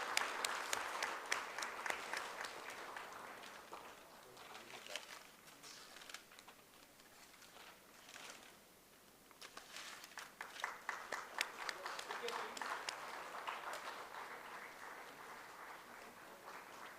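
A large audience claps at a foundation day event. The sound is a sustained, dense round of applause that dips briefly midway and then swells again, with faint background murmur.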